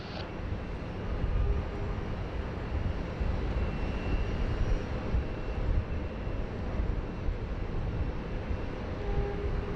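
A Qantas jet taxis along taxiway Charlie at Sydney Airport toward a departure runway. Its engines make a steady, broad rumble at moderate distance, alone and unbroken, with a faint whine running through it.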